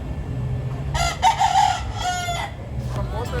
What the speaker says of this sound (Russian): Петухи гуляют по улицам.